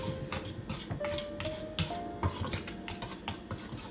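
Two cups of flour and a quarter teaspoon of salt stirred together in a bowl for a quiche pie crust. Soft repeated scraping and rubbing strokes come at a steady rhythm, fairly quiet and close, with no talking.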